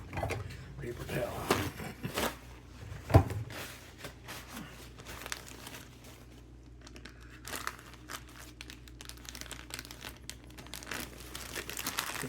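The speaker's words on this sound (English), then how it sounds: "Ooh, paper towel." A paper towel is crumpled and handled close by, with crinkling and rustling bursts and a few sharper tears mixed with bag handling while preparing a buffalo chicken wrap; someone talks at times.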